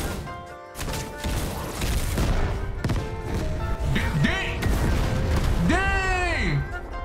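Bakugo's Ground Cannon Finisher explosion in Heroes Battlegrounds lands as a loud, continuous blast with repeated crackling bursts and booming hits, and a shrill sweeping whistle near the end.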